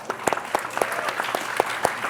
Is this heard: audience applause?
yes